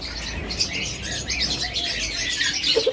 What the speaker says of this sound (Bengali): ককাটেল পাখি